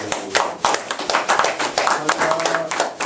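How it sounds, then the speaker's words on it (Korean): An audience at a business seminar claps in uneven bursts, close and fairly loud, with individual hand claps distinguishable over a short few seconds. "박수."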